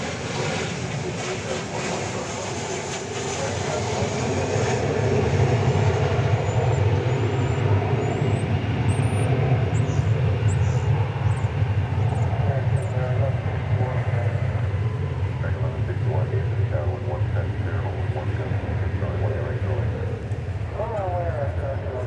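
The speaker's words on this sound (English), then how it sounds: "We've got coming in now from Reno, Nevada. A 737-800," An American Airlines Boeing 737-800 arriving from Reno at DFW airport makes a sustained, broad engine roar that swells and holds, heard under steady talking.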